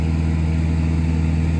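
A tractor engine runs steadily while tilling a green field prepared for deer season, a constant low droning hum with strong harmonic bands, close and fairly loud, with no voices over it.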